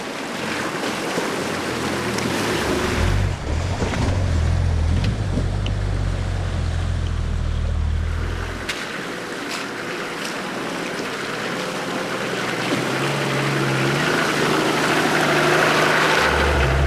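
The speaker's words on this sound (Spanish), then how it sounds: "este arroyo poco profundo no supuso ningún problema para ninguno de los dos vehículos" Vehicles ford a shallow stream on an Albanian trail, engines rumbling low under continuous splashing and rushing water, loud and close, with the engine pitch shifting midway.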